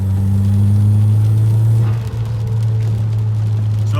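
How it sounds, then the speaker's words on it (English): A Saab 9-3 turbo engine with a BSR open air intake hums with a low, steady drone, then at about two seconds a quick whoosh as the blow-off valve vents, heard from inside the car. "you might be able to hear a little bit how it spools up in the car, and then of course the blow off"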